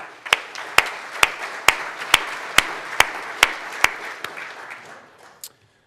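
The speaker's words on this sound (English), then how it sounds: "Let's give them a round of applause." Audience at a Rotary club meeting applauds volunteers with steady, evenly spaced single claps about every half second, moderately near, trailing off near the end.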